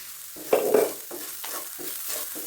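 Soya chunks fry in a pan while a spatula stirs them, with a couple of sharp scrapes at first and then repeated softer stirring strokes over a gentle, steady sizzle. No one speaks.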